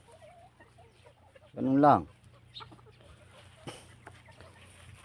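A single chicken clucks once, close and fairly loud, over a low steady hum, with brief speech nearby.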